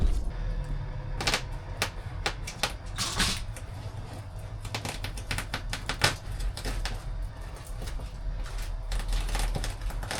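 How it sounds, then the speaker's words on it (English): Cheap scissors make irregular crisp snips and crunchy cuts through sound deadening material for a camper van, close by and fairly quiet, repeating over several seconds with faint rustling between them. "Literally just got a pair of crappy scissors, like not even proper scissors, and it's easy enough to cut."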